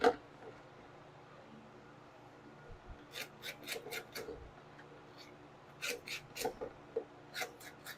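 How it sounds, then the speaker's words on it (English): A small carburetor gasket from a Honda GX200 pressure washer engine is scraped and cleaned in faint, irregular scratching strokes that come in short clustered bursts against a quiet background. "Try to clean up this gasket,"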